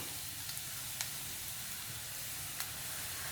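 Chopped garlic fries in a pan with a steady, soft sizzle and faint crackles, with no voices over it.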